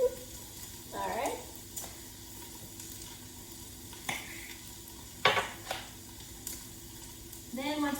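A spoon stirs soup ingredients with dried thyme in an Instant Pot for Zuppa Toscana, with soft intermittent scrapes and clinks against the pot, faint and close, amid light kitchen background noise.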